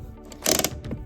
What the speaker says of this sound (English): Handbrake off.